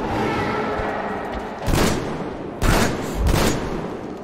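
Gunfire in the video game Metro Exodus, a dense, loud rattle of shots with a few heavier bursts standing out over a noisy, rumbling background.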